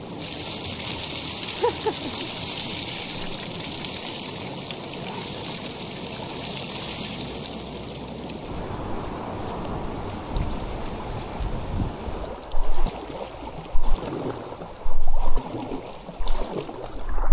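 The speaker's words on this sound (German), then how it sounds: "Hier fließt der Fluss wieder rein." The Kyll river rushes steadily back into its channel below a weir, a broad continuous hiss of flowing water, with splashes and knocks from a packraft trip breaking in toward the end.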